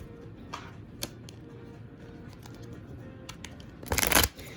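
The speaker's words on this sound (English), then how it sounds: "I'm going to shuffle just a little bit" Quiet clicks and taps of handled tarot cards, then a brief, crisp riffle of shuffling near the end, close by.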